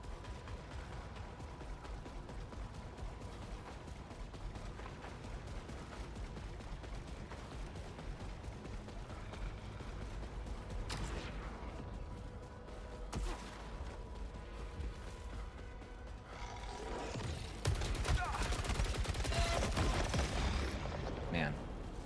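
Enemy gunfire rattles in the Desecrated Fortress in SAROS, a low mechanical din of shots under a game score that turns into a louder, denser burst of fire near the end, with some talk mixed in.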